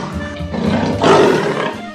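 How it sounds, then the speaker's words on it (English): A leopard roars in a wild animal sound sequence: a loud, close, rasping roar that swells midway and then fades, heard alone without talk. "leopard"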